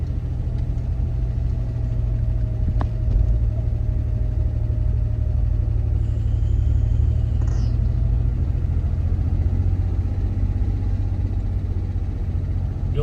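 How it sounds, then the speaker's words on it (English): A car engine running rough, heard as a steady low rumbling idle that holds throughout, close and fairly loud, with no talking. "My car sound kind of rough."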